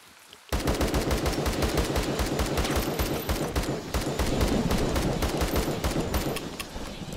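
Rapid gunfire from an M80 rifle in the video game ZERO Sievert, a sustained stream of sharp shots at a steady fast rhythm that starts abruptly and continues loud and close throughout, with no talk.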